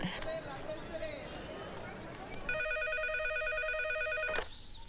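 A telephone rings loudly in a home with an electronic ringtone of steady pulsed tones, starting midway and then cut off abruptly, after a stretch of busy background noise with overlapping voices.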